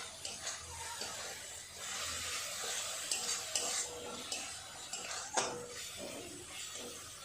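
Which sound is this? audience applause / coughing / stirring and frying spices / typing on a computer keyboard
stirring and frying spices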